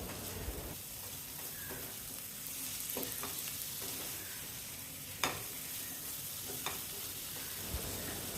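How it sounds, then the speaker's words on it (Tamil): Egg masala with finely chopped coriander leaves sautés in a pan, a soft, steady low sizzle with a few scattered clicks and taps of a spatula against the pan. "பொடிசாக கட் பண்ண மல்லி இலையும் இப்போ சேர்த்து வதக்கணும்."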